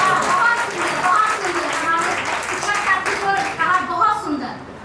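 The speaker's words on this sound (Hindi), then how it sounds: "इसके लिए जोरदार ताली बनना चाहिए, जोरदार।" A crowd at a teachers' award event breaks into applause, a brisk patter of many hands clapping with brief swells, while someone speaks over it.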